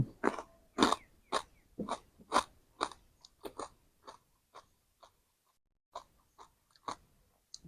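Crispy pork rinds being chewed up close with loud, rhythmic crunches, about a dozen bites and chews that grow quieter and more spaced toward the end.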